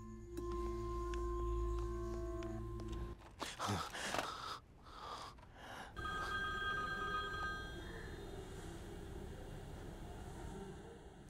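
Electronic phone ringing chirps in short tonal bursts, interrupted by a sharp breath or gasp, then more ringing tones with no speech.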